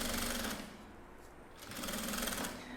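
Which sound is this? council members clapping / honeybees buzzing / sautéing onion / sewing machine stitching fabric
sewing machine stitching fabric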